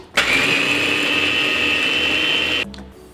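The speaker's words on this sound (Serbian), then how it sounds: "ja ću 100 g oraha usitniti u secku" An electric chopper whirs loudly at high speed while finely chopping 100 g of walnuts, starting abruptly, holding a steady motor whine with grinding texture for about two and a half seconds, then cutting off.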